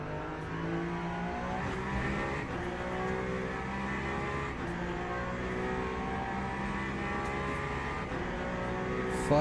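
Several race cars roar around the Le Mans circuit in a racing sim, a Ferrari among them, layered engine tones droning steadily and loudly with shifting pitch, no talking throughout.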